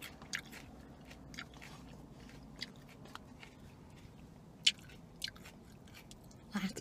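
Bites into a toasted tomato sandwich are followed by soft, close chewing, with a handful of sharp crunchy snaps spaced through quiet mastication.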